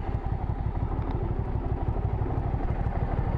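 A Hyosung GV650 motorcycle idles at a petrol station, a close, steady low engine chug with rapid regular pulses and light mechanical clatter, with no talking.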